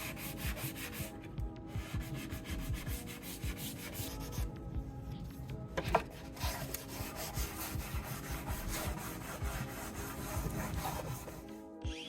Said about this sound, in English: I sanded everything down